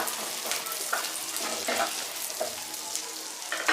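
Sliced onion fries lightly in hot oil, a steady soft sizzle with occasional spatula scrapes and stirring, close and continuous.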